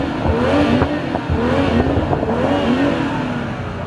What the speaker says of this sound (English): This thing's revving.